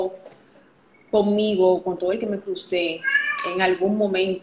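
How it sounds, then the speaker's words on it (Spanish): Cats meowing in a home while someone talks over them, with repeated plaintive meows overlapping her speech at close range. "Si escuchan a mis gatos de fondo"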